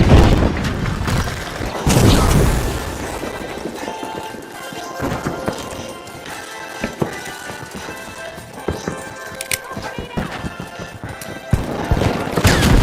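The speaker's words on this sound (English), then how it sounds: "Using a flashbang!" In the PC shooter The Finals, a flashbang blast opens a loud, busy mix of booms and rapid gunfire, with sharp bangs recurring throughout at close range.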